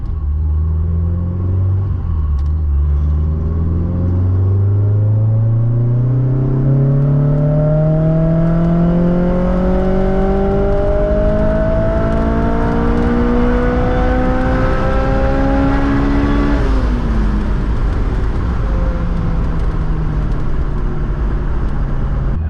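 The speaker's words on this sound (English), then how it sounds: "All right, gonna do a full pull here. Try third gear." A supercharged Honda S2000 does a full-throttle pull in third gear, its loud engine note climbing steadily in pitch with supercharger whine over a deep rumble before the revs drop off near the end.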